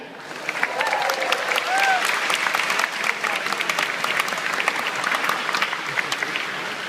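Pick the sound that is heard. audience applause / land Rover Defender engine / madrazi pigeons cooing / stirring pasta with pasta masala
audience applause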